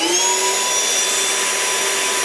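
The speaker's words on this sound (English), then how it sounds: "it's a noisy vacuum with a very high pitch sound" A Ryobi 18V project vacuum runs loud and close in a garage, a steady high-pitched whine with bright tonal overtones over a broad rushing airflow that holds constant throughout.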